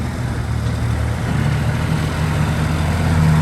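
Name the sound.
Kubota L3408 tractor three-cylinder engine running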